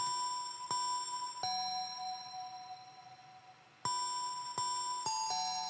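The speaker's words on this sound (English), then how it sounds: "So, the little bells, if I didn't put this parametric EQ in it" Bell one-shot samples from a producer drum kit, named Tiggy Bells, ring out as clear metallic dings, several separate strikes with long sustained tones and short gaps, bright and close, no voices.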